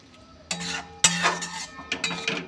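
Prawns with white sesame paste being sautéed without oil in a pan, heard as a few sharp spatula clanks and scraping bursts against the metal, close and fairly loud with short pauses between strokes.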